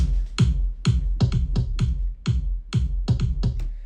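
A layered electro house kick drum paired with a kick counter, punchy and tight, hits in a quick, steady syncopated run of about fourteen thumps, loud and alone with no voices over it.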